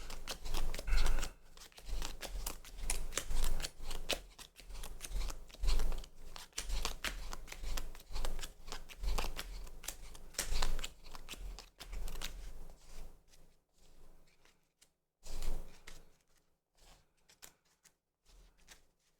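Playing cards are riffled and shuffled repeatedly during a deck check for a Blue-Eyes Primite Yu-Gi-Oh! deck, giving close, crisp bursts of flicking and snapping that fade out toward the end.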